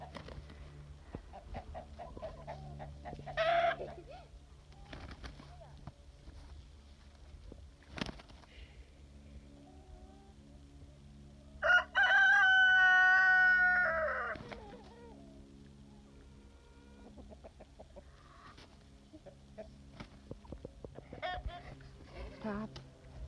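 Chickens cluck and squabble among goats, a flock sorting out its pecking order; a loud burst of harsh squawking and crowing-like calls stands out midway, with scattered clucks before and after and a person talking at times.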